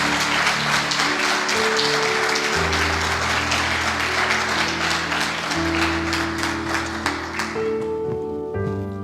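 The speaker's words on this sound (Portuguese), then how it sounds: "Se eu fosse você, eu aplaudia Jesus" A church congregation applauds during a Sunday celebration service, steady broadband clapping over sustained organ or keyboard tones throughout, with the music continuing alone as the clapping fades near the end.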